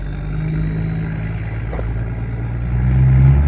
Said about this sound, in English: Oh, that truck running so smooth.